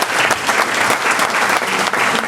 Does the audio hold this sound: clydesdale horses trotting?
no